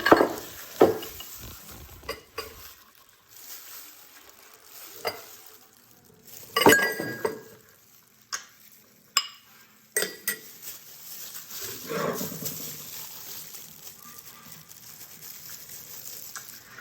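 Homemade white sauce pasta being moved into a bowl: sporadic close clinks and scrapes of a utensil against dishes, with soft wet shuffling between them and quiet gaps, no talking.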